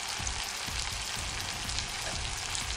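Vegetables stewing in a pan beside salted eggplant for an oven-baked pangasius dish, a dense, even sizzle and bubbling hiss holding steady throughout at moderate level, close and without talk.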